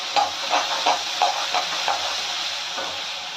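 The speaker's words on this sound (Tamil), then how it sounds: "ஒரு 2 நிமிஷம் நல்லா வதங்கட்டும்" Ginger garlic paste sautés in oil in a pan while an egg gravy is made, giving a steady close hiss with faint rhythmic stirring ticks across it.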